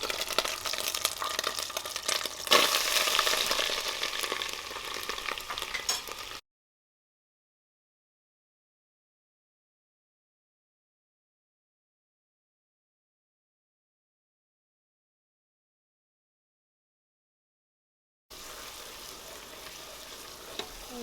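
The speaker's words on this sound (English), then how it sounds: "And I'm going to fry my onions." Onions frying in a pot for Nigerian chicken stew sizzle and crackle steadily at close range, in two stretches separated by a long silent gap, with no talk.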